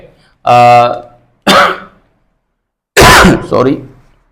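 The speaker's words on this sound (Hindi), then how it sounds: "कुछ ज्यादा ही परेशान कर रही है खांसी आज।" A few harsh coughs and throat-clearing bursts, close and loud, separated by short silences.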